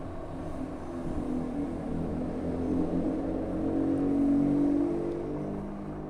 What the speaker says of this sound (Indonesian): Motor yang saya gunakan ini motor Honda Grand tua.